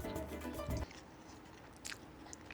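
Close, crisp bites into crunchy penne pasta with bacon and jalapeno give a loud crunch and brief chewing, followed by quieter mouth sounds with no talking.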